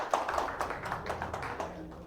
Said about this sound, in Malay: Tepukan gemuruh untuk pejuang-pejuang FGP